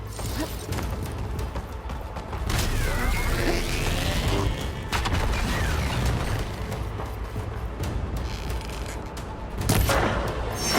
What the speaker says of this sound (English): I need to shoot the couplings holding up the stem.